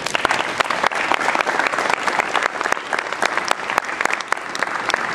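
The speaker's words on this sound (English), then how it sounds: "Can we have a round of applause for him, please?" A crowd claps steadily in sustained applause, dense and even throughout, with no talking over it.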